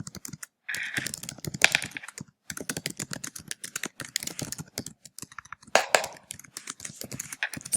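Quick bursts of typing on a computer keyboard while writing a blog, close-up key clicks in uneven runs with short pauses between words.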